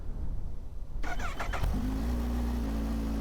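A 2024 Kawasaki Ninja H2 SX SE sport motorcycle engine, already warmed up, cranks and fires up, settling into a steady, loud idle rumble up close after a brief starter whir.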